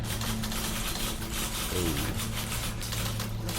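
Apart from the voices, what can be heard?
typewriter sound in The Beginner's Guide video game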